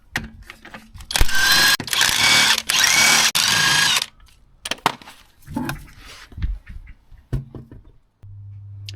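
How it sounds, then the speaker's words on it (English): Power tool whirring in loud bursts while the wheel nuts come off a jacked-up Vauxhall Corsa, followed by clunks, knocks and handling noises as the wheel is removed, ending in a low hum. "we can now take the wheel off"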